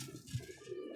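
Highflyer pigeons kept by a breeder give a soft, low coo, one brief murmuring call heard faintly and close by.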